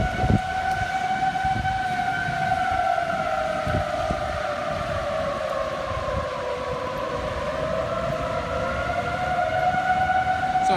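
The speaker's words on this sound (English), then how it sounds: "So there you go again, the sirens once again going off." Tornado warning sirens in Dallas County wail steadily in the distance, their long pitch slowly rising and falling over gusts of wind noise.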